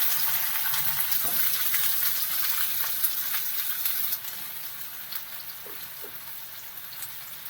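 Onions sizzle in about four spoons of hot oil in a pan for a stuffed capsicum curry, a steady close crackle and hiss that softens slightly midway, with faint clinks and no talking.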